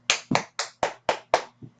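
Hands clap seven times in a steady rhythm, sharp and close, the final clap softer and slightly delayed.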